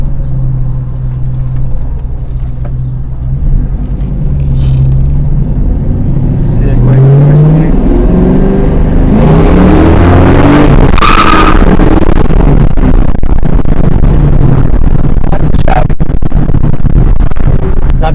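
Engine of a 2004 Ford Mustang GT fitted with an Airaid cold air intake, a loud, steady V8 drone with rising revs mid-clip, rumbling close throughout with some speech underneath.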